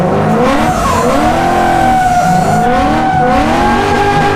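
A car doing donuts, tires squealing in long wavering wails over a loud droning engine, continuous and close throughout.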